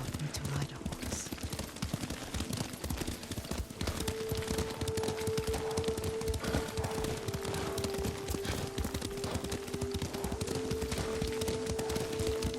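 Horse hooves clip-clop steadily while riding in the video game Ghost of Tsushima, a continuous mid-level trotting rhythm under game music and occasional talk.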